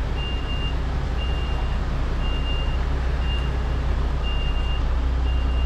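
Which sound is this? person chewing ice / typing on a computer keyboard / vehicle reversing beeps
vehicle reversing beeps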